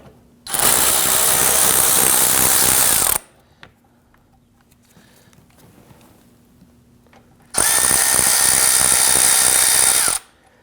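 A power tool spins out T30 Torx screws from the splash shield under the engine cradle of a 2009-2017 Volvo XC60, two loud, close, sustained whirring bursts separated by a few seconds of quiet.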